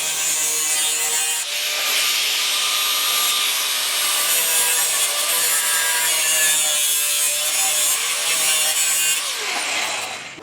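A metal mounting plate for a 240sx being cut with a power tool, giving a loud, continuous harsh grinding rasp that holds steady for about ten seconds close to the listener, with no talking.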